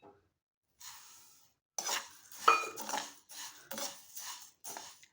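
Coriander seeds roasting over low heat in a hot kadai, stirred with a metal spoon: a faint, quiet scraping with irregular clinks against the pan, coming in short repeated bursts.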